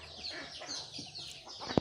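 Hens cluck and murmur in a farmyard among goats while pecking at scattered rice, a soft continuous chatter of fowl with one sharp louder call near the end.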